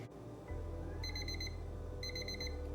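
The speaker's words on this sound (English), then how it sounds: "There's the timer." A kitchen oven timer beeps during the baking of whitefish, giving two quick bursts of rapid electronic chirps about a second apart over a low steady hum, fairly quiet and with no talking.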